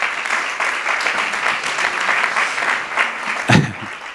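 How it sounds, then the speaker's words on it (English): An audience at a Singularity University conference in Portugal applauds the local production crew, a thick, continuous round of clapping with a brief louder burst near the end. "So why not give them a big round of applause?"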